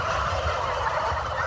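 Turkeys on a turkey farm gobble continuously as a dense, loud flock chorus close by, with no talk over it.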